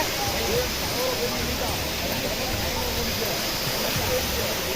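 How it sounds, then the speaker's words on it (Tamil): A waterfall at a dam roars in a steady, dense wash of rushing water, loud and continuous, with faint voices of a crowd mixed in. "அருவி சூப்பராக ஓடிக்கிட்டு இருக்கு."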